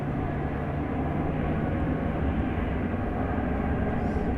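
Airliner on its landing approach, arriving from Wichita Falls at DFW Airport, a steady broad roar of jet engines at moderate distance with no break.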